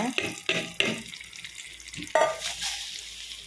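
Mustard, cumin and urad dal tempering poured into carrot chutney and stirred in: a few sharp sizzling splashes in the first second, then a steady soft frying hiss and light mixing noise with no talk.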